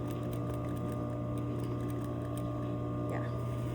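A domestic sewing machine hums steadily as it stitches bias binding onto fabric, a continuous low mechanical whir that sits at a faint, even level throughout.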